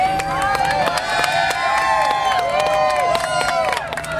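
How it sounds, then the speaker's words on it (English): A loud crowd of Romney supporters at an outdoor Republican debate event in South Carolina, with continuous cheering, shouting and overlapping voices forming a dense, close roar throughout. "All I hear is the Romney crowd behind me"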